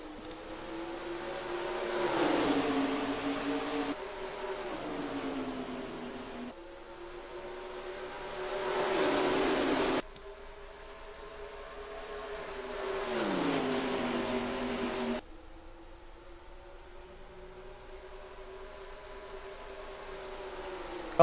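Stock car engines drone and whine around Dover in NASCAR Racing 2003, several cars sweeping past in rising and falling pitch, moderately loud and continuous, with no talking.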